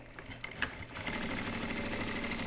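Sewing machine stitching a boiled wool coat collar, starting with a few clicks then settling into a steady fast mechanical whir close by, without talk.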